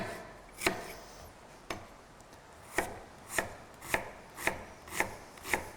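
Sharp kitchen knife chopping an onion on a board while making risotto, about nine crisp close knocks, the first few irregular, then settling into a steady, evenly spaced rhythm with no talk.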